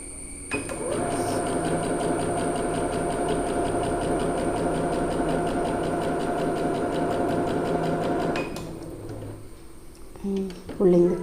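Bernette Sew & Go 8 sewing machine stitching a cloth test swatch at reduced speed, a steady even mechanical whir with rapid needle rhythm running for about eight seconds before stopping, followed by faint handling noises.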